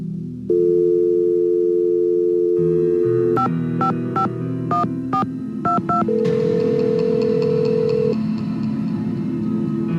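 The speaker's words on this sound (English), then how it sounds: "Go ahead and use the phone in the ticket booth." Touch-tone keypad beeps on a ticket booth phone in a Nancy Drew mystery game, a quick irregular series of crisp tones over steady background music, followed by a brief ringback tone.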